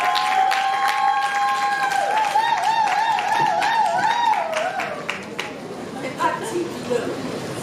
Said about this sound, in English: Please, a round of applause for Madame.